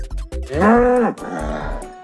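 Cattle lowing on a farm, several drawn-out moos overlapping with short grunting calls, close and loud, with no talk.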